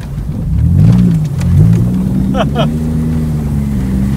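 A Pontiac race car with its muffler gone rumbles loudly and close, its deep exhaust note rising and falling as it revs, while people talk over it.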